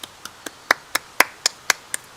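Hands clap nine times at a steady, quick pace, close and crisp, with a few claps louder than the rest and no talking.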